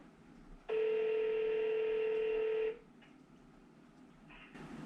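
A single steady telephone tone sounds loud and close for about two seconds, then cuts off into quiet room hiss with faint later beeps, as a call is placed while tracking down a 1965 Mustang Fastback.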